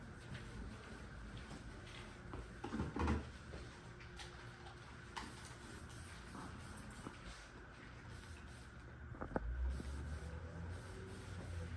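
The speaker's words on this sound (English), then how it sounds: "can you spray her down?" Spray bottle misting a client's hair at a salon, a few short hissing spritzes spaced apart over quiet room ambience.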